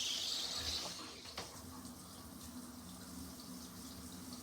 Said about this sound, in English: we're going to rinse the conditioner out using the shower head, but only using cold water